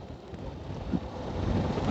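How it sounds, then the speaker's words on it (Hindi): Light rain patters steadily with a soft, hissing wash on a motorbike tour in Nepal, gently building toward the end. "फिर से थोड़ा थोड़ा बारिश चालू हो चुका है,"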